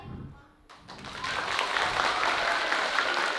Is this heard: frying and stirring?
no